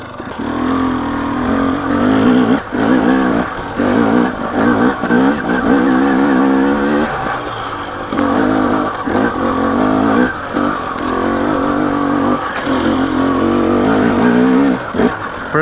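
A KTM two-stroke dirt bike engine revs loud and close with a rough, buzzing note, dipping and rising as the rider clutches in and slows, then picks up again in short bursts.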